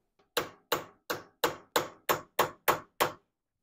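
Steel hammer blows on a door hinge being rebuilt on an RA24 Toyota Celica: nine sharp, evenly spaced metallic strikes about a third of a second apart, each ringing briefly, close and loud with no talk.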